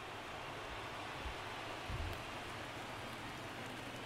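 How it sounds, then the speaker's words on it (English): Rain falling during a baseball game in MLB The Show 19, a faint, steady hiss of drops with a couple of soft low thumps underneath. "the conditions aren't ideal with the rain coming down"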